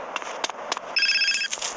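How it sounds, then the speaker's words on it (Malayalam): A phone rings inside the video game GTA San Andreas, a short burst of bright repeated electronic ring tones following a few sharp clicks, loud and close with no talk. "എന്തോ ഒരു ഫോൺ കോൾ വരുന്നുണ്ട്"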